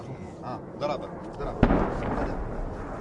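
A coalition airstrike explosion on an ISIS-held town, a single sharp distant boom rising out of a noisy outdoor scene with voices talking before and after it.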